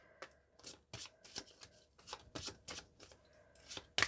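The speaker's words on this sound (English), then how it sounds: "So shuffle them up real good." A small deck of tarot cards is shuffled by hand in a series of quick, crisp riffling bursts, about a dozen close-up flurries at uneven intervals, with no talking.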